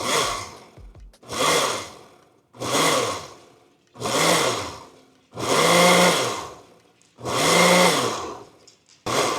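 A blender pulsing Brazilian cheese bread batter: six loud, close whirring bursts of about a second each, separated by short silences, the motor rising and winding down with each pulse and no talk over it.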